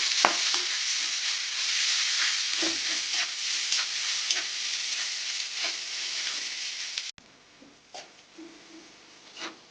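Chopped onion and green chili sizzle in hot oil in a pan, a steady bright frying hiss with occasional stirring scrapes, then the sizzle drops abruptly quieter near the end, leaving softer crackles.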